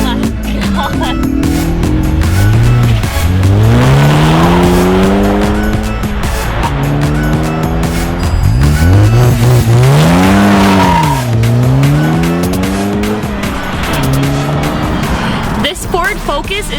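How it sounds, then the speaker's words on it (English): A 2017 Ford Focus ST fitted with a Remus exhaust and a sprint booster revs and accelerates hard, loud and close, the engine note climbing through repeated rising sweeps between gear changes, with exhaust pops near the end. "This is your Remus exhaust and sprint booster modification to a Ford Focus ST."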